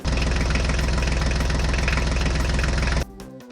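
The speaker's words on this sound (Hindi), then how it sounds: "चलो जल्दी से अंदर बैठ के ट्रैक्टर को स्टार्ट करो" A toy HMT tractor engine runs loud and steady with a rhythmic knocking chug for about three seconds, then cuts off abruptly into quiet.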